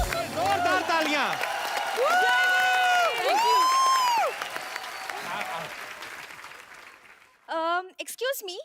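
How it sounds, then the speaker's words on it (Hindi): A studio audience at The Kapil Sharma Show gives loud applause, mixed with bright tonal sounds and cheering voices. The applause holds strong, thins out near the end, and a short burst of voice follows. "जोरदार तालियां"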